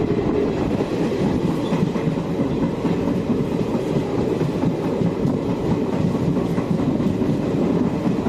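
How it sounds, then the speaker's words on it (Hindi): A train rolls along railway tracks through countryside in India, a steady loud rumble with rhythmic wheel clatter heard from inside the carriage throughout, with no voices. "सुंदर सुंदर से क्षेत्रों के बीच से यह गुजरती हुई हमारी ट्रेन"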